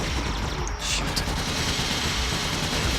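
Bursts of rapid gunfire and mechanical clatter ring out in the Ratchet & Clank: Deadlocked Liberator Tournament, a dense, loud barrage of shots and explosions layered with game effects.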